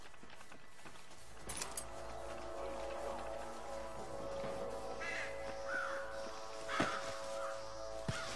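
A crow caws in the Red Dead Redemption video game, a few harsh calls over a steady bed of game ambience and music, no speech.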